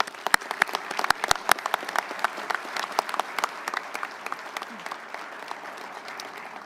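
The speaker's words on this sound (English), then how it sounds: "Let's give a round of applause." Applause from an audience at a U.S. Navy luncheon awards ceremony, a steady patter of many hands with a few sharp, close claps standing out, holding fairly even before thinning slightly toward the end.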